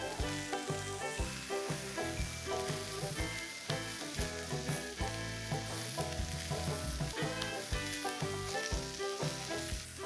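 Vegetables, including cabbage leaves and tomatoes, sizzle on a hot grill for a mushroom sizzler platter, a steady, close hiss that runs throughout beneath dense, loud background music.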